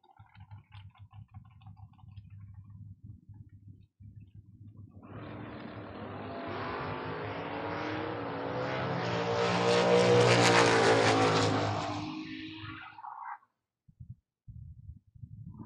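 Dragster race cars roar down a drag strip at a bracket racing event, a loud engine blast building from about five seconds, swelling to a peak near ten seconds, then cutting off, with quieter idling rumble before and after.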